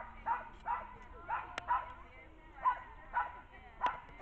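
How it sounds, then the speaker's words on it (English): At a dog park, a dog barks and yips repeatedly, about seven sharp, fairly close calls spaced at a steady rhythm over light background noise. "that one dog's barking way too much"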